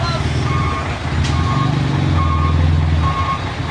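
Road traffic in which a truck backs up, its reversing alarm repeating a steady series of loud beeps over a low, rumbling engine idle.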